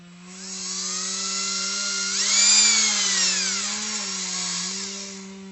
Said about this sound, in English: I'm going to see if I can drill this thing out